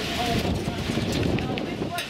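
Gusty wind roars across the microphone at an outdoor engine and tractor show, a steady, loud, low rumble that continues for about two seconds.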